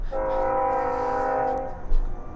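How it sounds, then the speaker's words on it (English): A loud, sustained horn from a passing train blares for over a second, followed by rumbling rail noise nearby. "freaking train."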